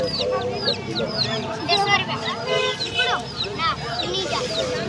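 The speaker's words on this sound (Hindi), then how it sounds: "ये मुर्गी है ना ये मुर्गी है" Many chickens and chicks cluck and cheep at once at a busy, crowded bird market, with people talking over the steady din of birds.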